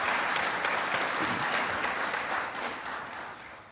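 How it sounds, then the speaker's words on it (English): A crowd at a National Vietnam War Veterans Day welcome home ceremony applauds a company for its work with veterans. The dense, steady clapping starts full and gradually tapers toward the end. "Let's give them a big round of applause for what that company does for veterans across the country."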